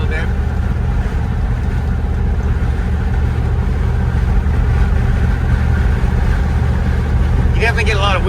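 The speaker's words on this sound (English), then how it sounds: "You definitely get a lot of wind noise in these old trucks." A 1942 GMC 4x4 pickup truck on big tires, heard from inside the cab while driving: a steady, loud blend of engine drone, road rumble and wind noise, with a brief rattle near the end and no speech.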